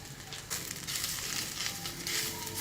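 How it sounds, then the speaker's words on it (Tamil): Spices and chopped tomatoes sauté in a pan for karamani potato sabji, a soft continuous sizzle with faint crackling that steps up in intensity about half a second in and holds steady, with no voices. "ஒரு 2 நிமிஷம் வதங்கட்டும்"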